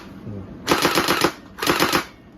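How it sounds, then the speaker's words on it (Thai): An electric M416 gel blaster toy gun fires two quick automatic bursts, each a rapid rattling string of shots about half a second long, loud and close with a short gap between. "ยิงแรงอยู่นะฮะ ยิงได้ประมาณอ่าไกลก็ประมาณ 20-30 เมตรนะครับ"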